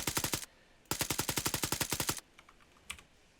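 Automatic machine gun fire in the military shooter Arma 3: a short burst, a brief pause, then a longer rapid string of evenly spaced shots, followed by a few faint, scattered distant reports.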